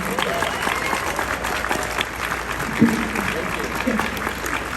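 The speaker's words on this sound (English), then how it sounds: "If we could have one more round of applause, please, for Tim Matheson." An audience at a Q&A panel applauds actor Tim Matheson, a steady bed of crowd clapping with voices speaking over it throughout.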